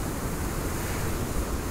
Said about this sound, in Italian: Minchia vento incredibile che c'è